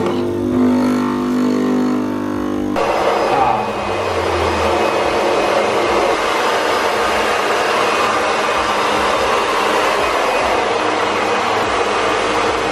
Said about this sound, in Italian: Con il freddo che fa, Fon, la cosa migliore.